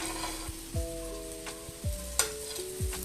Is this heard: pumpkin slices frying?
yes